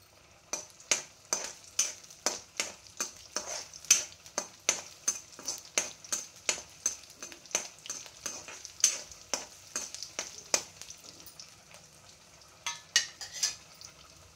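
Small onions frying in hot oil with cumin and mustard seeds in a pan for a ridge gourd and chana dal curry, a steady sizzle broken by a long run of sharp, rhythmic stirring clinks and scrapes, close and with no voices.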